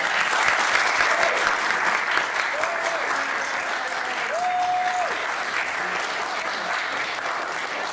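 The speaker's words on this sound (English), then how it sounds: "let's just have one more big round of applause for all" Sustained audience applause fills an awards ceremony hall, a dense steady clapping texture throughout, with faint voices and a few whistle-like tones rising briefly above it.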